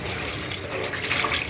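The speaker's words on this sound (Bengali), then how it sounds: "কলটা ছেড়ে রাখি" Water runs from an opened kitchen tap in a steady, close rush with no pause, a continuous splashing stream into the sink and no voices.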